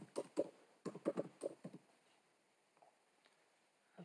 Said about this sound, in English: Hit the backspace key on your keyboard